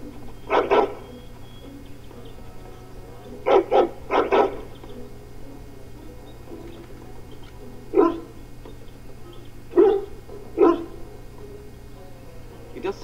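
A dog in the video game Dragon Age Origins gives several short barks and whimpers in separate bursts over a low steady hum, moderately close and clear.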